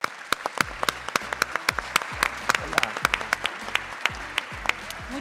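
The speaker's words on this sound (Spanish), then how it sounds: "un aplauso para ustedes." Applause from an audience at a consumer summit conference in Miami, many hands clapping at once in a dense, close burst that lasts throughout.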